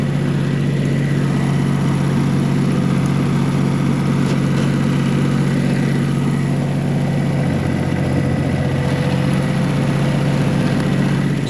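A John Deere tractor's engine runs steadily at a low, droning idle-to-crawl pace, loud and close, with constant mechanical rumble and no change in pitch as it creeps away through snow.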